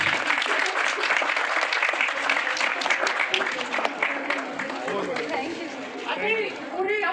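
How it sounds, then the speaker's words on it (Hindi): Sustained applause from a crowd at a Hindi-language rally during an Akhand Bharat Sandesh Yatra, a dense wash of clapping that carries on for the whole stretch with some crowd chatter mixed in, easing slightly toward the end. "एक बार सभी के साथ जोरदार तालियां जरूर बजाते रहेंगे"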